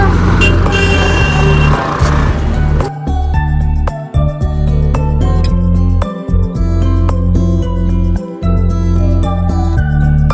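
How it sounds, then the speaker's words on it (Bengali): Vehicles at the Sealdah parking area in Kolkata, where cars and two-wheelers park: a steady engine drone with an idling motor hum and busy street traffic noise, loud and close throughout. "এই হচ্ছে আমাদের শিয়ালদা পার্কিং।"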